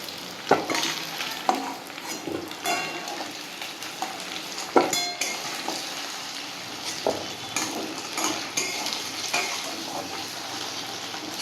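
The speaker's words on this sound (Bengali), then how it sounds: "দেখুন আমার লাল করে ভাজা হয়ে গেছে আলু আর কচুটা" Potato and taro pieces frying red in oil, a continuous sizzle with frequent sharp scrapes and clacks of a spatula against the pan, close by and without speech.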